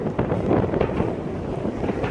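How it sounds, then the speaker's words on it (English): Strong wind buffeting the microphone on a high bridge over the Columbia River, a low rumbling roar that gusts unevenly throughout, with no voices. "It's super windy up here."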